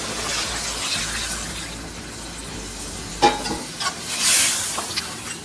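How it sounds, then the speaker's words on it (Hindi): Meat stock is poured into a pan of browned mutton and potato curry, a soft sizzle and watery hiss rising as the liquid hits the hot pan, with a few clinks and stirring sounds. "इसमें थोड़ा सा पानी ऐड करते हैं जो कि गोश्त वाला पानी हमने रखा है।"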